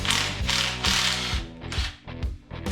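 A hand ratchet with a 13 mm socket works a bolt on an LS engine, giving repeated bursts of close, crisp clicking with short pauses between strokes, and no talk.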